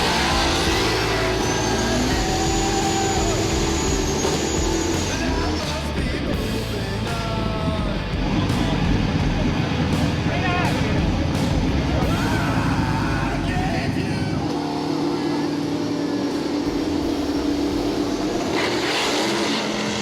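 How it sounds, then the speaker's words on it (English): A black Camaro and a green Mustang launch side by side down a drag strip at a street-racing event, engines roaring loud and steady for about twenty seconds with rising revs, and a voice talking faintly underneath. "Race number 8 is Scotty B in the black Camaro versus the green Mustang."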